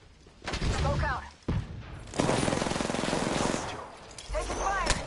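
Video game gunfire cracks out in several loud bursts and rapid volleys, close and harsh, separated by brief lulls, with a voice speaking among the shots.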